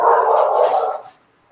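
A dog barks indoors, one drawn-out, fairly loud bark or grumbling yowl that holds for about a second and then cuts off into quiet.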